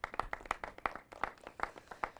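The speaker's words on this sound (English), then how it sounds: "I'll clap for you." Quiet, scattered hand clapping for a legislator at an asthma education campaign launch, with a small group giving brief, uneven applause at a distance.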